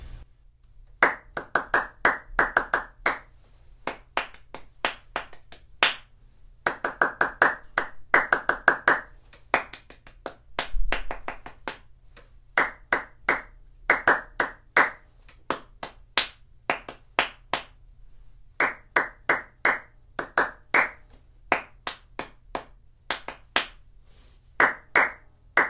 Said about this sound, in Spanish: Lo primero que vamos a hacer es unos ejercicios de ritmo con las palmas.